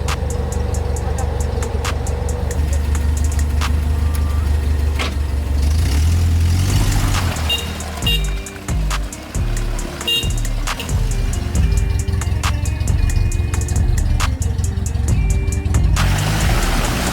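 A Willys MB jeep churning through deep mud off-road, its engine droning loud and steady with revving surges and dips around the middle as the wheels push through, no talk over it.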